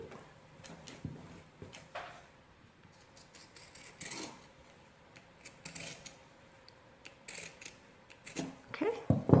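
Scissors snip through cross stitch fabric during hand hemming. Several crisp, close cuts are mixed with handling rustles, and a soft voice can be heard in the background.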